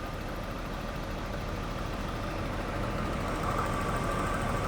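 A Jaguar XJ40 engine idles at a steady, low rumble with a faint mechanical tick, heard up close and fairly quiet, with no talking over it.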